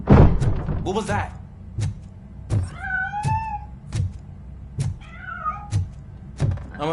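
A cat meows several times amid game sounds in RoboCop Rogue City, with clear rising and falling calls between repeated thuds and clunks, under intermittent talk.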